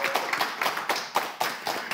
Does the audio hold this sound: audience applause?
yes